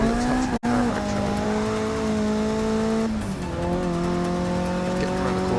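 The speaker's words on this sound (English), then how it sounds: "Getting around the corner with the handbrake on." Engine drone and tire noise from a car in the racing video game Forza 6 as it is driven around a corner with the handbrake on, a steady loud whine that shifts pitch partway through, with no talking.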